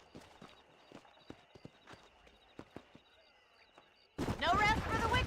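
Horse hooves clip-clop in a steady, quiet walking rhythm in the video game Red Dead Redemption, then a loud voice cuts in near the end.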